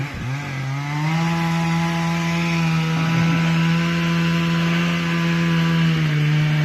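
A chainsaw bore-cutting into a large walnut tree, loud and close, its engine holding a steady high-revving drone under load with brief dips in pitch as the bar bites, no voices.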